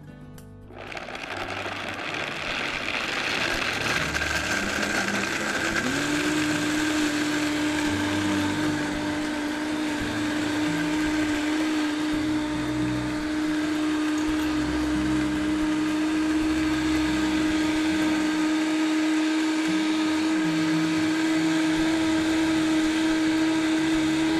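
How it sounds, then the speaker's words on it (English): A Vitamix blender blending almond milk on high: a loud, close, steady motor roar with a sustained whine that rises slightly in pitch early on and then holds unbroken for the rest of the run. "So it's locked on, and I'm going to blend."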